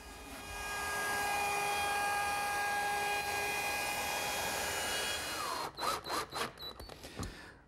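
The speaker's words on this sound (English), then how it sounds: "I'll sand it smooth and ease the edges just like I did with the tabletop" A power sander works on a wooden Lazy Susan top with a steady, loud whine that holds for several seconds, then stops and gives way to a few short handling knocks.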